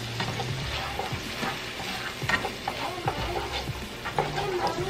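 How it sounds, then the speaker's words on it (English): Onions and garlic fry in a pan, giving a constant close sizzle with uneven scraping and stirring knocks from a utensil, and no voices. "you just kind of fry the onions and the garlic just until they cook a little bit"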